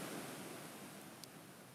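Big ocean waves rolling in at Newport Beach at sunrise, a steady broad wash of surf with no distinct breaks, even and moderately loud throughout, with a slight wind rush over the microphone.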